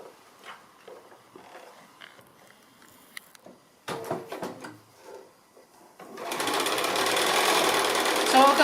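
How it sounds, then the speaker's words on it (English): A sewing machine stitches a seam in fabric with a quarter-inch seam allowance. After a few quiet handling clicks and rustles, the motor starts and runs in a steady, close, continuous whir for the last few seconds, with a voice speaking early on. "So I can go ahead and start stitching now, just using a 1/4 inch seam allowance as we do."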